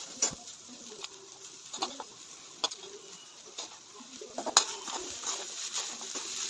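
Fried sweet corn is mixed into boiled basmati rice, with soft irregular scraping and patting of a spoon against the pan and a few sharper clinks, fairly quiet and close with no talk.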